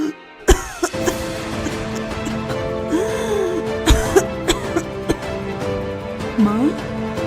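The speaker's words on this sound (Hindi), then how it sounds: "एक दिन राधा की माँ बुरी तरह से खांसने लगी।" A woman in a Hindi cartoon coughs badly in several harsh bursts, with throat clearing, set against background music.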